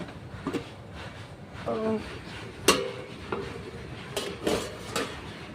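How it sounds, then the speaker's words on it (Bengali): A metal lid lifted off a cooking pot of pea lentils with bottle gourd, several close clanks and scrapes of metal on metal, with faint background noise and no clear talk. "দেখুন বন্ধুরা আমি ঢাকনাটা তুলে নিলাম"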